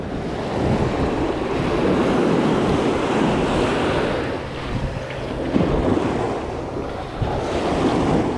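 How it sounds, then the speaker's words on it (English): Ocean surf rolls in as the tide rises at a California fishing beach, a steady loud wash of breaking waves with gusts of wind buffeting the microphone. "it looked like the tide is coming in right now"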